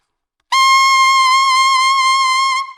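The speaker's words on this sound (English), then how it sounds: "So the note sounds like this on the alto sax." A single high, bright alto saxophone note in the altissimo range, held steady and loud for about two seconds before cutting off.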